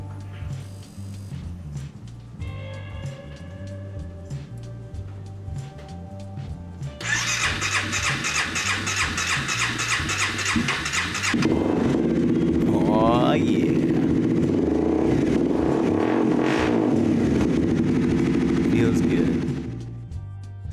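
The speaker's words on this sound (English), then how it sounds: "Let's turn the key and see if it works." A Honda CBR300R motorcycle engine cranks with a rhythmic starter churn, then catches and settles into a loud steady idle before revving and running on, close to the microphone.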